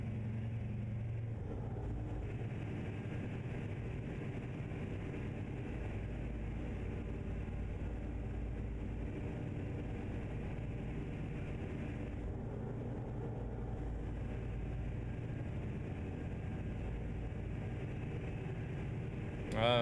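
A heavy truck engine in a trucking video game, pulling a double trailer, gives a steady loud low drone that holds for the whole stretch with little change.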